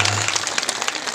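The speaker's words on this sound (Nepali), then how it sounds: "उहाँको सम्मानमा एकचोटि ताली बजाइदिनु" Audience applause honoring a man at a Nepali comedy show, dense steady clapping from a nearby crowd throughout, with a low hum at the start.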